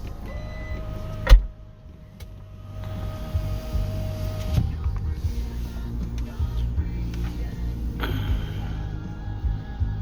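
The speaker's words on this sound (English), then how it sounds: "You can also close the trunk from here. You can close it with the remote control." The power tailgate of a 2022 Volvo XC60 B5 Ultra closing by remote, a steady electric motor whir under a low idle hum after a sharp click, finishing with a latch thunk and another whirring stretch.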